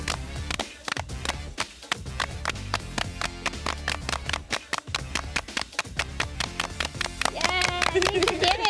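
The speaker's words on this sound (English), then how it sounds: "we tried to all clap at the same time" A group of children and adults clap together at a firefly science activity, sharp claps landing in a steady, fairly synchronized rhythm, with voices breaking in near the end.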